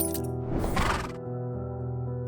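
A horse neighs in the video game Wuthering Waves, a short whinny rising over a steady low musical bed, fairly close and clear, with no talking over it.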